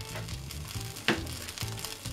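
Steady sizzling and crackling of rice frying in a pan over high heat for Chinese three-delight fried rice, with soft scraping stirs and a sharp clink partway through.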